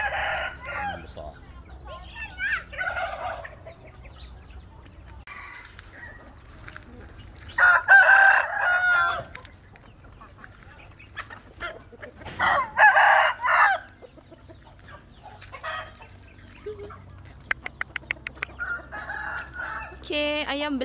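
Chickens cluck and crow loudly in several bursts, with turkeys calling between them and scattered voices in the background.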